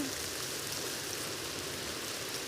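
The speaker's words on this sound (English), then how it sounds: "it's not rain after all, it's wind, it's a wave of wind" A steady, broad rushing hiss of wind through aspen leaves, like distant rain, continuous and unchanging, with no voices.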